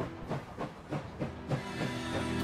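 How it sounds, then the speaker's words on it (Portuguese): A steam train in the video game Last Train Home slows toward a stop, its rhythmic chuffs spacing out before giving way to a steady, rising hiss of steam. "O trem tá parando."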